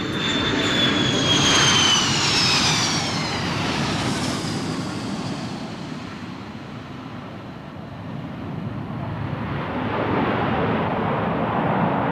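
Jet engines of a B-52 Stratofortress bomber roar loudly as it passes, a broad rushing whine that swells, eases and builds again, with no voices.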